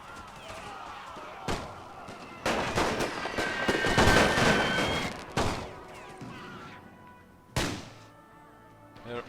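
Gunfire and explosions in The Great War, a WWI strategy game, as German Empire troops fire on advancing conscripts: loud, dense bursts of shots and blasts, some sharp isolated reports, with no talk over them.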